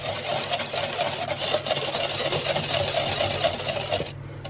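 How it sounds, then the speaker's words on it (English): A whisk scrapes steadily and rapidly against a bowl, stirring stevia and vanilla into a candied walnut mixture. The scraping is close, continuous and fairly loud, and it cuts off just before the end. "now we're going to whisk in the stevia and vanilla"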